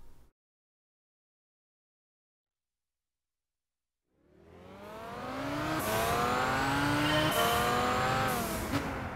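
In Gran Turismo 6, after a few seconds of silence, a Pagani Huayra engine roars to life at Silverstone and revs hard, climbing through gears with a steady, loud howl.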